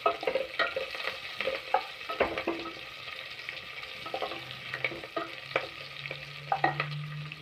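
Chopped green chillies sautéing in a pan for bisi bele bath, a close, steady sizzle broken by repeated scraping stirs of a spoon, with no talking.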